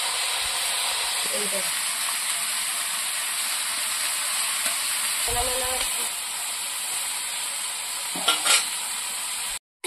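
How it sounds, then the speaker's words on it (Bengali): Kushi vegetable stir-fried in an uncovered pan gives a steady hiss of frying, broken by a few scraping stirs, with faint talk in the background. "এইভাবে নাড়াচাড়া দিতে দিতে কুশিটা ভাজা করে দেবো।"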